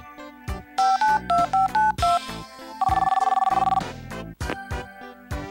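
A telephone in the game SWEAT & TEARS dials with a string of short beeping tones, then rings with a loud, fast electronic trill, all close and clear with no talk.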